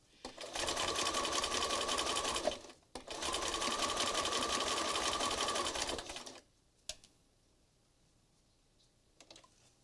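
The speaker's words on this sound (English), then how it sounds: "I'm not trying to stitch in a straight line, especially." A sewing machine stitches through a paper collage card in two long steady runs of rapid whirring, each lasting a couple of seconds, with a short break between them, then stops, leaving only faint handling clicks.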